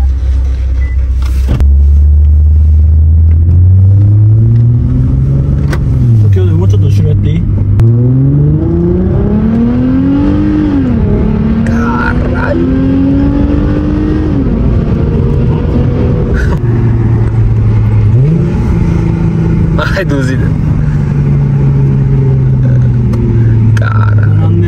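A Toyota Crown sedan in Japan revs its engine loudly and close up, its deep drone climbing and dropping through repeated throttle blips and long pulls over a sustained rumble.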